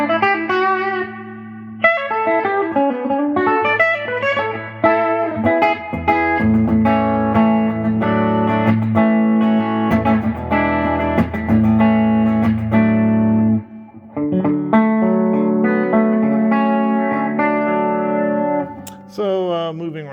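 A loud, overdriven electric guitar plays sustained chords and riffs through a crunchy Roland Cube 80X amplifier, steady and continuous with a brief dip partway through.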